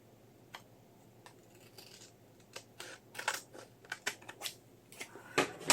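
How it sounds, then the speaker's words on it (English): Scissors trim paper up close in a string of sharp snips, sparse at first and then quicker and louder toward the end, with no speech. "I have to trim that off though"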